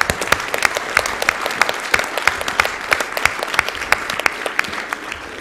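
Steady applause from a small group at a live video game speedrun marathon, dense crisp claps continuing for several seconds at even loudness.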